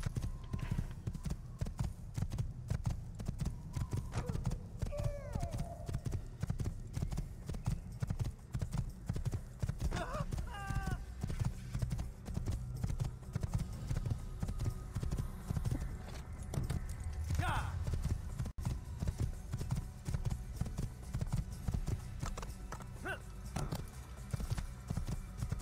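A white horse gallops in the Assassin's Creed video game, with steady clip-clop hoofbeats running throughout, an occasional whinny, and a voice talking over it.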